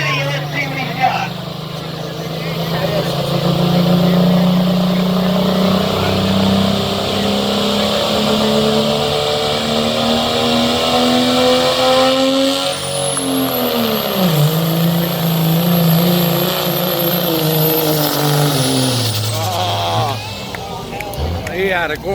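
Pulling truck engine roaring during a fair truck pull, loud and sustained with rising revs, a dip and recovery midway, and a high whine near the end, while an announcer talks over it.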